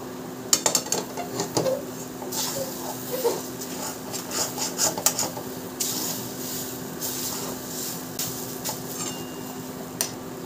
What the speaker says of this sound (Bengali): এটা কড়াইতে হালকা করে নেড়ে নেব।